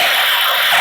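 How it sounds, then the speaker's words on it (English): A blade lock-up effect from an Anakin/Luke Skywalker replica lightsaber gives a brief, loud, continuous sizzling buzz with no pauses. "Blade lock up."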